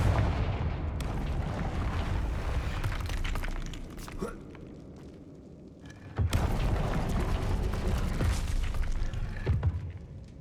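Confringo fire spell blasts in Hogwarts Legacy, loud booming bursts with crackling impacts, one dying away and another erupting a few seconds later amid dense game noise.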